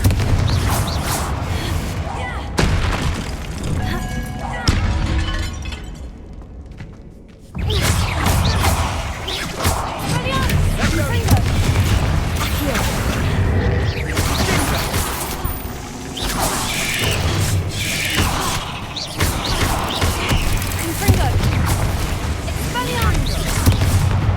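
Confringo fire spells blasting in Hogwarts Legacy, heard as a run of loud, booming bursts over a dense bed of game effects, with a brief quieter gap partway through before the explosions resume.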